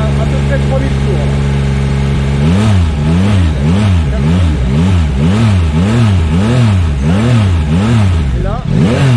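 A 2022 Yamaha MT-09 A2-restricted motorcycle, out of gear and still in break-in, revved to about 3000 rpm, a loud close engine climbing and dropping in a rhythmic series of blips after a brief idle.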